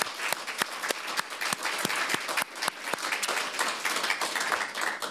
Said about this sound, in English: So please join me in a round of applause for our dear staff.